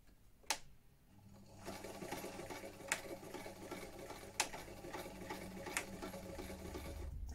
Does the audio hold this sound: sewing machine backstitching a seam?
yes